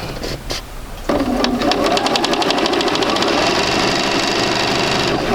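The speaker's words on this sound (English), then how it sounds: "I'm going to sew 1/4 inch on there" A sewing machine runs a steady quarter-inch seam through white and red quilt pieces, its rapid needle chatter starting after a second of quieter handling and continuing loud and close without pause.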